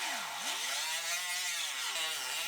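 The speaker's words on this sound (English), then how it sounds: "now we can drill these seam welds off of our apron support and our apron." A drill bites into seam welds on the sheet-metal apron and apron support of a 2019 Ford Explorer, a loud, close, high whine that dips in pitch under load and then climbs again.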